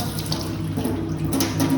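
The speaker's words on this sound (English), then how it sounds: "I am going to pop in a plug. I'm going to use a little bit of warm water" Warm water runs from a tap into a plugged sink being filled to pre-wash sewing fabric, a steady close splashing stream throughout without speech.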